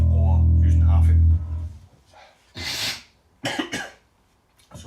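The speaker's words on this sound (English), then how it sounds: "so I'm sniffling and snorting here" A person sniffles and snorts through congested sinuses in several short, sharp bursts, close and loud, following a brief low held bass tone at the start.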